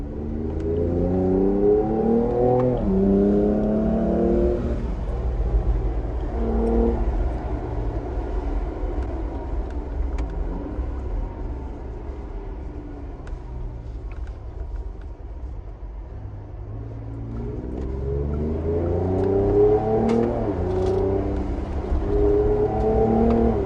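Ford Ranger Raptor pickup accelerating on a race track in Zimbabwe, engine note climbing through rising gears with a shift near the start and another build toward the end, loud and continuous with no voices.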